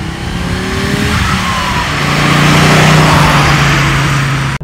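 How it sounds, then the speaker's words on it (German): Five-cylinder inline turbo engine of a 1983 Audi Quattro coupé with all-wheel drive, droning steadily and loudly while driving, the tone rising slightly as it pulls, with road and tyre roar beneath and no talk. "Also jedenfalls ist das ein 5-Zylinder-Reihenmotor mit Turbolader."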